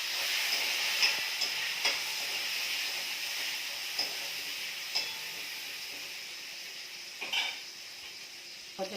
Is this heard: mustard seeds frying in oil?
yes